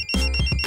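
A phone ringtone plays loud and close, with steady high electronic tones held through a short burst and no voices.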